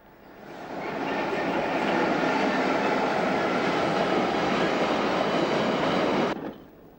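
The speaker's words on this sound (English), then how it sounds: "The latest locos have broken the tradition of buying British and have been built by General Motors in North America." A British locomotive built by General Motors in North America passes close by. The rumble of the train swells in over the first second, holds steady and loud, then cuts off sharply near the end.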